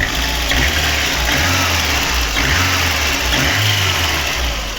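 The 1.5-litre engine of a VAZ 2115 car with around 270,000 to 300,000 km and a hard-starting problem runs steadily up close, a continuous low rumble with slight rhythmic fluctuation and no talking.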